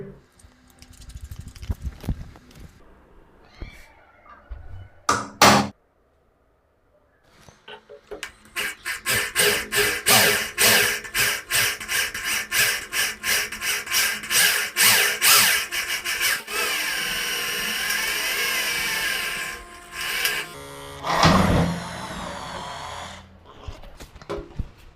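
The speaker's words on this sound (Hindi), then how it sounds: "हम पहले इस पे ड्रिल करके देखेंगे।" An electric drill bores through a thick metal angle with a metal bit, a loud sustained grinding whine that starts after a few short bursts and runs steadily, then stops and briefly restarts.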